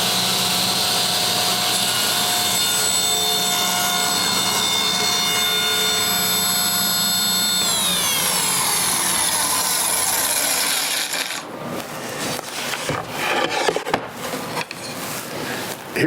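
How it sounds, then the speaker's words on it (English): A table saw cuts through a thick piece of wood. A loud, steady motor whine with a shifting pitch lasts about eleven seconds, then gives way to scraping and rubbing as the blade winds down. "So I'm going to turn on the saw."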